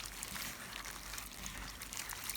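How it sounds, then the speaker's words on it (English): Dirty rinse water is poured out of a bowl of salted shrimp in a kitchen, a faint, continuous splashing trickle lasting a couple of seconds with no talking. "Pour out the dirty water"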